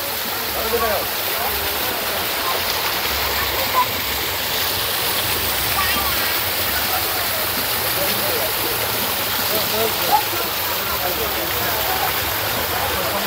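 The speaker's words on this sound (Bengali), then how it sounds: "কৃত্রিম ঝর্ণা তৈরি করা হয়েছে, তবে ঠিক ঝর্ণার মতোই লাগছে দেখতে।" An artificial waterfall in a park splashes and rushes steadily, a loud, unbroken wash of falling water close by.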